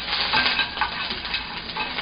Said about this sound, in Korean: 맨 뒤에 있는 배추부터 볶아보도록 하겠습니다